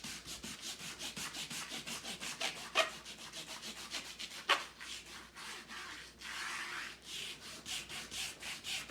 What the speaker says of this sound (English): an old clean toothbrush, and this is to get off any wax that may have been left on the canvas